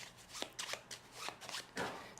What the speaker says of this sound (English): each player will simply take a deck and they will then shuffle those